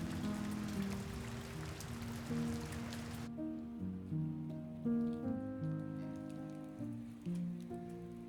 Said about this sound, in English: I love the rain. It's the best.